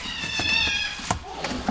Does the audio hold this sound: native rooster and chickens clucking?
no